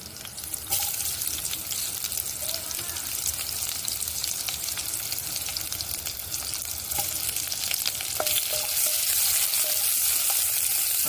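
Onions frying in a pan while making Odisha-style roasted sweet corn, a steady close sizzle with occasional stirring clicks, getting slightly louder toward the end.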